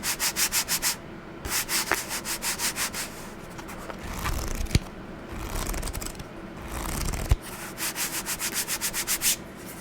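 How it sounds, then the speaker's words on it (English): A hand rubs back and forth across the cover of a book in a steady, rhythmic close-up swish, stroke after stroke, with brief pauses between runs and no talking. "Just pull out a book and rub its cover."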